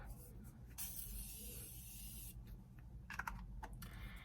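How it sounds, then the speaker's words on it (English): A steady aerosol spray hisses for about a second and a half close by, followed by soft tapping and rustling. "We just want to finish it off with a little bit of setting spray."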